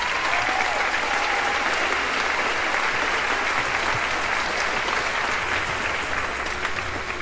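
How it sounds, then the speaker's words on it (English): A pageant audience at the Miss Michigan Pageant 2009 gives a round of applause for the show's volunteers, with steady, dense clapping from a large crowd filling the hall throughout, without any talking. "so let's give them a round of applause"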